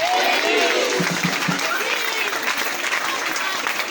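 Steady applause from a crowd fills the whole stretch, dense and continuous clapping heard from within the audience.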